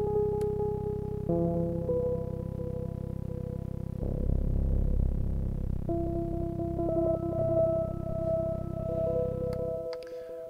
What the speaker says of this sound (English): Right now it's a very steady tone.